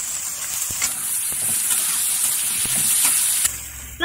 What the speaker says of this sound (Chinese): 把豆豉的水分炒干即可